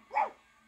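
A single short dog bark in an audiobook, one bright, clear yelp that rises and fades within a fraction of a second against silence.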